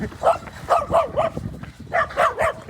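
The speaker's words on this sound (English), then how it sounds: "That little Dachshund, he was vicious, but he was all bark." A small Dachshund barks aggressively at close range in Serbia, two quick bursts of sharp, high yapping barks separated by a short pause.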